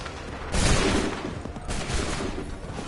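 Two loud, dense volleys of gunfire fired on command, the first heavier and the second following about a second later, no voices during the shots.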